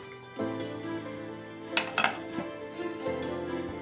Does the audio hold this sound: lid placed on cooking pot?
yes